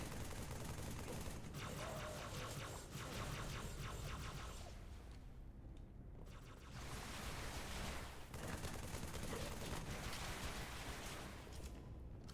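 Assault rifle fire in Halo 3, dense sustained bursts of automatic shots rattling continuously with a brief lull midway, loud and close amid other battle noise.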